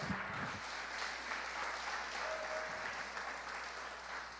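Church congregation clapping for Jesus during a Portuguese-language sermon, a steady dense wash of many hands applauding together throughout, loud and continuous with a faint voice near the start.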